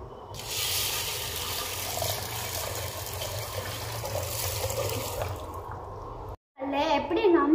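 A large pot of water is poured into horse gram dal in a home kitchen: a steady, fairly loud rushing pour lasting several seconds, stopping abruptly, then a brief splashy clatter, with a low hum underneath.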